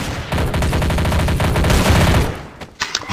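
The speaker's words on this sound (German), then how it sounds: "Da hör doch mal auf, mich anzuschießen." Rapid automatic gunfire from the video game Trouble in Terrorist Town, a dense continuous fusillade of shots lasting about two and a half seconds, loud and close, then breaking off into a few scattered sharper bursts.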